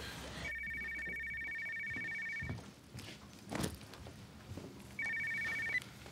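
A telephone rings on an outgoing call, a long electronic ring tone, then a pause with rustling and a thump, then a second shorter ring, heard through the handset against faint room noise.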